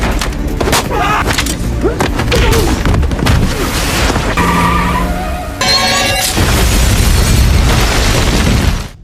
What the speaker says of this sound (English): blow up the building